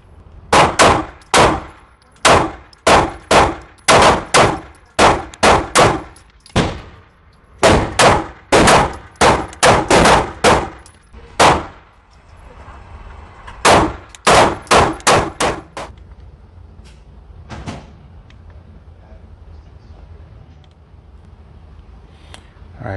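Sharp pistol shots from a Canik Mete MC9 9mm at an outdoor range ring out in quick irregular strings, about two dozen loud cracks in bursts, followed by a few isolated shots and quiet.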